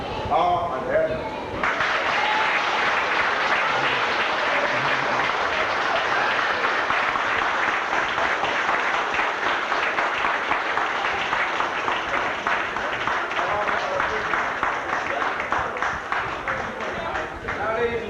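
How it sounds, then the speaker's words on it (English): Warm applause from an audience at a 1985 family reunion for Edna, a steady crowd of clapping that holds loud and dense throughout, with voices mixed in. "giving this lady a warm round of applause"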